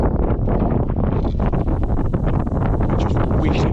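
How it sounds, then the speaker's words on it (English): Wind gusts across a fishing boat on the Tamar estuary, a steady loud rush with buffeting on the microphone throughout, no talking. "I just wish that this wind wasn't around"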